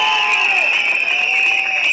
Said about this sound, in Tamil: அந்த நல்ல மனசுக்காரர் ஆதவ அர்ஜுனா அவர்களை இந்த மேடையில் வைத்து ஒரு அரங்கனை தான் நீங்க கைத்தட்டல தந்தே ஆகும்.